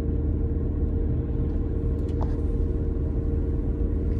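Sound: car driving

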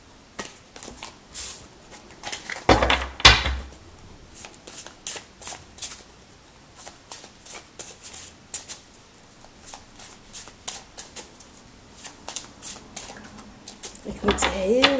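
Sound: large smooth cards being shuffled

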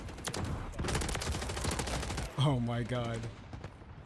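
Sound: sentry gun firing in video game Modern Warfare 3

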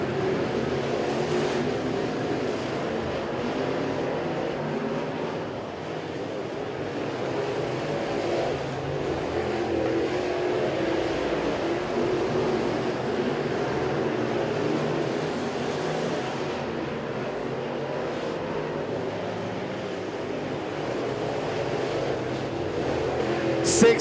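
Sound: crate late model race cars racing in a heat race

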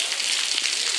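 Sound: heavy rain falling in Acaraú

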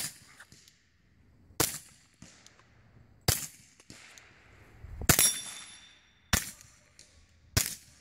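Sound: suppressed Kel-Tec Sub2000 gunshot

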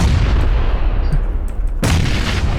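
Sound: grenade explosion in PUBG video game

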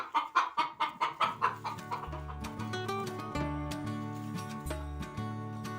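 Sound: startled hen clucking

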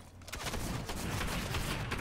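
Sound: drum gun firing in a video game

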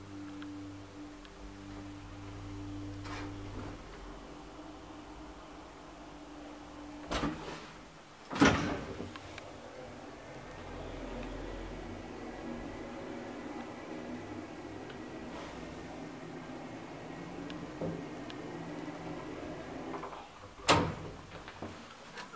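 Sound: 1987 Valmet-Otis holeless hydraulic elevator ride

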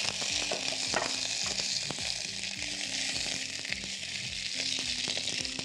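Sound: sausage sautéing in oil in a hot pan

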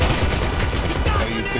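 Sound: gunfire from a gun in GTA 5 video game

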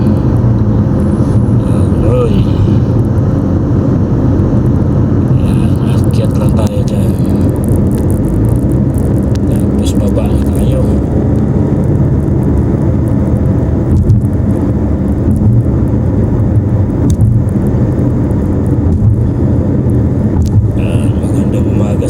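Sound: road traffic heard from a car

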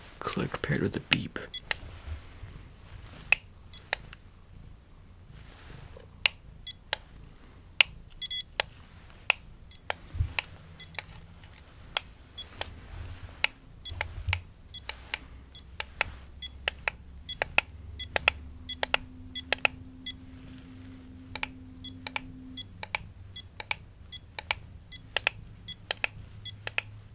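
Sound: clicks paired with beeps

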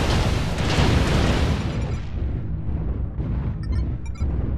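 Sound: missile explosions in the video game MechWarrior Online

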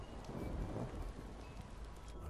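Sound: rain and thunder sound in Pineview Drive video game

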